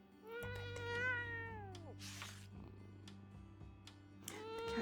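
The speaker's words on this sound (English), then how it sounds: "I pet the cat." A cat gives a long, drawn-out meow that slides downward, then a shorter one rises near the end, close and clear over a low steady hum and quiet background.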